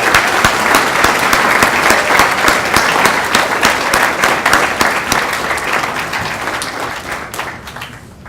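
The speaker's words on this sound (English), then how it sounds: "Give yourselves a round of applause." Students at a university matriculation ceremony in Belize give a loud, sustained round of applause, dense clapping that fills the hall and slowly fades toward the end.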